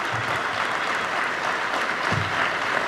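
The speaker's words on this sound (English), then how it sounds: "Yes, you can applaud." Steady, even applause from a large audience at the 2018 Global Climate Action Summit in San Francisco, a continuous wash of clapping heard at moderate distance without talk.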